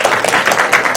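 Audience applause at an Indonesian film premiere event, a steady patter of clapping filling the whole short stretch with no clear gaps.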